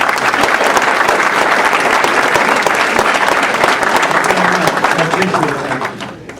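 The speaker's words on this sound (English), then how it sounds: "Much applause to you, Miss New Jersey." A reception audience applauds Miss New Jersey with loud, sustained dense clapping that holds steady for about six seconds before tapering off at the end.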